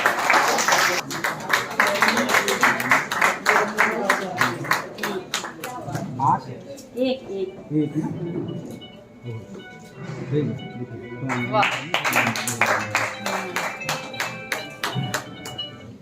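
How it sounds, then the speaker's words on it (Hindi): An audience at a World Book Day panel discussion claps for folk jagar singer Basanti Bisht, with sharp, uneven clapping in bursts between stretches of talk; people speak during and around the applause. "पद्मश्री बसंती देवी, बसंती बिष्ट जी के लिए जोरदार तालियां।"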